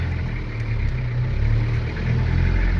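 A car engine runs at a steady idle close by, a continuous low rumble with slight swells in level and no talking.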